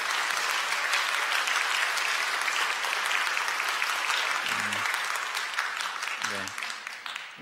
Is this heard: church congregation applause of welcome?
yes